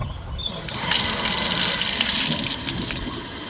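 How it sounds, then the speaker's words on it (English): Steady rush of water pouring from an outdoor hose faucet at a house, starting after a brief click and continuing loud and even, close by. "we're going to turn the hose faucet on"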